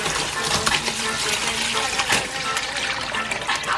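Sorrel drink, steeped overnight, being strained and poured into a container, a steady close splashing and trickling of liquid that runs without a break for a few seconds.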